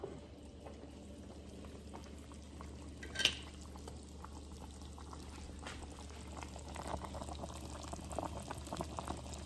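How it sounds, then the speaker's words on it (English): Pot of brown stew chicken bubbling on a stove, a faint steady simmer with soft pops and a brief clink partway through, quiet and close. "Bubbling nice."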